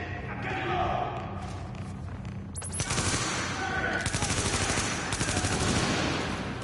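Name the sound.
turret firing in the video game The Division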